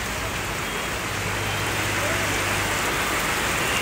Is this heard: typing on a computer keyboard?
no